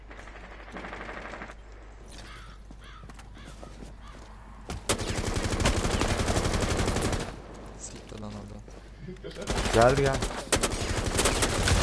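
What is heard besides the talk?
gunfire in the video game Rainbow Six Siege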